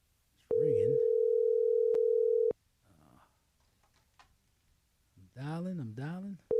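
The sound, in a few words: telephone ringing tone during a call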